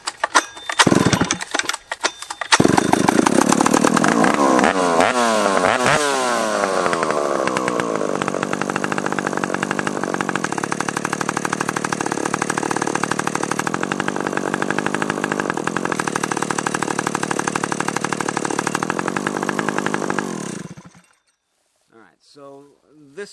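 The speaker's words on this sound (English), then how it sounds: "so let's start our chainsaw" A chainsaw with a chain that won't stop moving sputters through a few pulls, then catches and roars loudly, revving and droning steadily before cutting out near the end.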